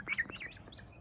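Sleepy young farm chicks with their feathers coming in give a few soft, high chirps and tweets in quick succession, faint and close, over a quiet background.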